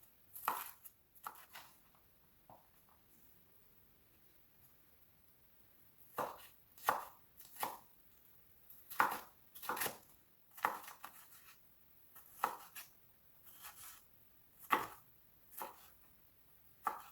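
A knife chops green pepper on a cutting board in quick bursts of crisp taps, separated by pauses, close and fairly quiet with no talking.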